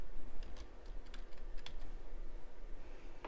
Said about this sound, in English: So I type in my keyword